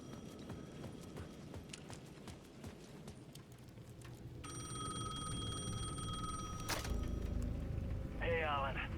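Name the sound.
payphone ringing in video game Alan Wake II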